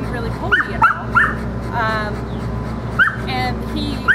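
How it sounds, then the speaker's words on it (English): Excited dogs bark, yip and whimper nearby during a dog training session, several sharp short bursts scattered among a couple of drawn-out whines. "he stayed calm around the presence of the other dogs that were barking and very excited"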